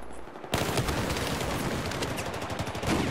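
Rapid automatic gunfire from an F2000 assault rifle in the Battlefield 4 video game bursts in suddenly after a half-second lull, then continues as a dense, loud, sustained stream of shots to the end.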